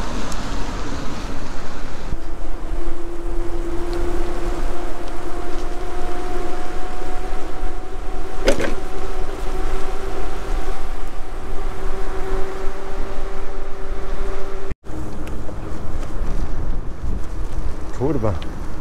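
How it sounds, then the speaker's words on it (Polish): Steady, roaring strong wind fills the whole clip, a broad constant rush with a low engine-like hum underneath and a brief dropout near the end. "wiatr się zerwał jeszcze więcej niż przedtem"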